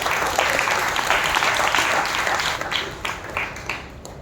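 A church congregation at a New Year's Eve watch night service clapping loudly together, a dense sustained wash of many hands that slowly thins out toward the end.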